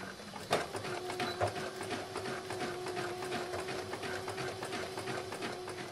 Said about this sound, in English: Now I'm going to take this to the sewing machine and I'm going to zigzag stitch this at 5/8 inch